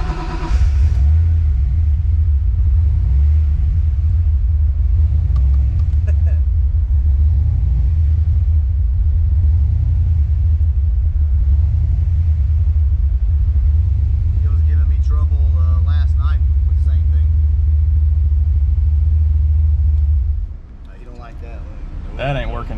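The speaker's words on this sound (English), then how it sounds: "I want to do a couple hot starts now that I think we're done messing with the screw" A car engine after a hot start settles toward idle with a deep, steady rumble that runs loudly up close, then drops off near the end; people talk over it at times.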